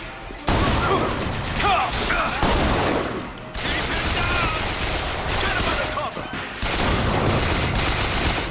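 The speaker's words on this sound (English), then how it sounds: "I'm guessing it's a flaming shotgun." A flaming shotgun fired in Bioshock Infinite, heavy booming blasts that repeat in quick bursts amid chaotic combat noise, loud and close, with mechanical clanks between the shots.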